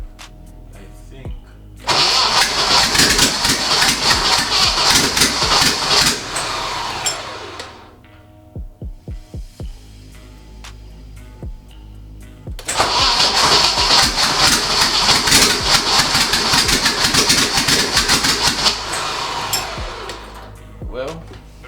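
Turbo BMW E30 cranking and firing up loud and close, running roughly and unevenly, then dying away before a second start with the same rough, loud running; someone talks in the gap between runs.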